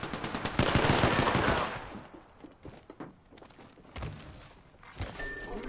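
Bursts of video game gunfire, a loud dense volley in the first second and a half, then scattered sharper shots and thuds over a quieter background.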